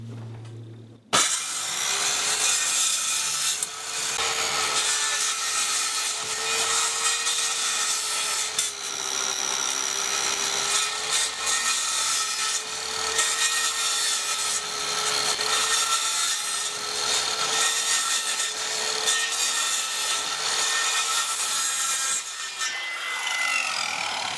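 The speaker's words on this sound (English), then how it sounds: "we're just going to cut them 2 feet wide angles by 8 foot, and we'll just trim them down to fit in there" A power saw cuts through plastic polymer sheets for deck building in one continuous, loud, close pass of about twenty seconds, with no speech.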